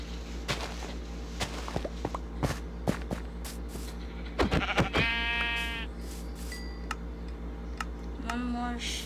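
Sheep bleating in the Minecraft video game, with a few clear bleats standing out over quick clicky footsteps and a steady background hum, moderately loud and no talking.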